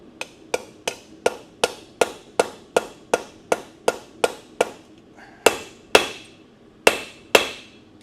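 A blacksmith hammers hot metal on an anvil while forging a small hammer, about eighteen sharp ringing strikes in a quick, even rhythm that slows into spaced blows near the end, close and clear with no talk.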